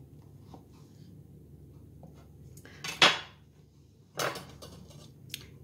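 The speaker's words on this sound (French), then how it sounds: "Je découpe en tranches fines mes tomates" A knife cuts tomatoes into thin slices on a board, two sharp crisp cuts with faint taps between them in a quiet kitchen.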